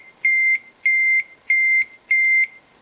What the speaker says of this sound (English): I'm interrupting the main program and toggling the beeper and my LED on pin 13